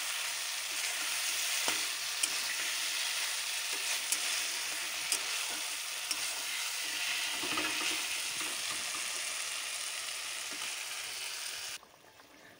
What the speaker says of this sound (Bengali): দেওয়ার পরে অনেকক্ষণ ধরে আমি পটল আলুটাকে কষলাম মশলাতে দিয়ে